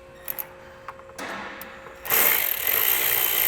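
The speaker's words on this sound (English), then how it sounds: "we're going to go ahead and tighten it up using a 10mm socket" A ratchet with a 10mm socket tightens a screw on an intake housing, giving a few light clicks followed by a steady, close ratcheting whir. Louder rapid clicking comes in over the last second and a half.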